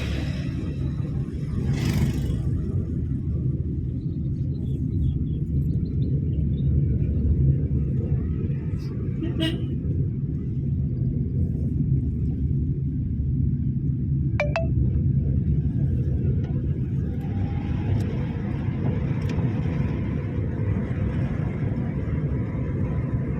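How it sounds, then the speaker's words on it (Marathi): A car travels through a mountain ghat road with a steady low engine and road rumble throughout, some faint clicks and higher noises passing over it. "दोन डोंगराच्या मधनं गाडी चालली."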